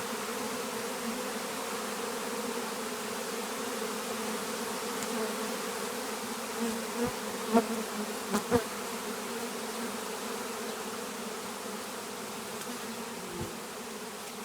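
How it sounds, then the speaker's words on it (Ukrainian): Many bees buzz in a steady, dense hum, with a few louder passes of individual insects close by amid the swarm. "От яка маса бджоли."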